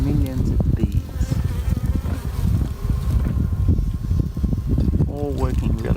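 A loud, dense buzzing of a honey bee colony close by, continuous and droning, with a few brief voice-like tones breaking through.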